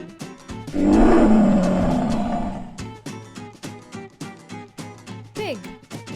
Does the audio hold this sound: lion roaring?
yes